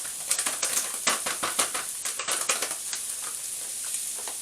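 Shop-brand long grain rice frying in a couple of tablespoons of oil while being stirred, crisp sizzling with quick rhythmic scraping clicks from the stirring, loud at first and easing into a softer steady fry.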